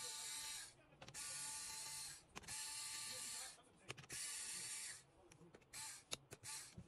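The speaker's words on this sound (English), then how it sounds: "first I have to remove all this screw to remove the CPU fan" Screwdriver backing screws out of an HP Omen gaming laptop's casing to reach the CPU fan, quiet repeated ratcheting clicks and gritty turning bursts separated by brief pauses, close by.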